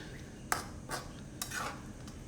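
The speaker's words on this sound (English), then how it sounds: "Mix it well so it's going to be all together, incorporating" Tuna and tofu crispy sisig being mixed together with a utensil, giving a few soft, separate scraping strokes against a quiet background with no talking.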